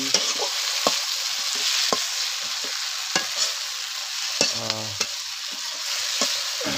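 Oil sizzling and frying steadily in a pan during outdoor night cooking in the Sundarbans, with a continuous hiss broken by sharp crackles and pops and a few clinking stirs, fairly close and loud, no talk.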